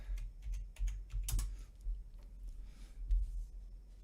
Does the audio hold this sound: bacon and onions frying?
no